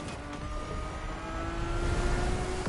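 Ferrari F50 engine heard from the cockpit in the racing game The Crew Motorfest, a steady, droning high-pitched whine that builds gradually as the car accelerates, with no speech.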